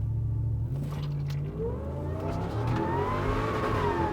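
Supercharged Nissan Patrol four-wheel-drive engine revving hard, a steady loud roar whose pitch climbs and falls with the throttle, close by and continuous with no talk.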